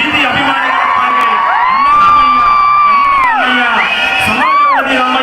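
A crowd at a public stage event greets a chief minister's arrival with loud, close cheering, rising whoops and whistles layered over a dense roar of voices.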